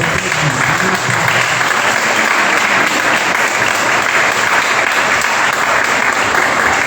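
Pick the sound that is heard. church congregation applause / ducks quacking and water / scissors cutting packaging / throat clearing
church congregation applause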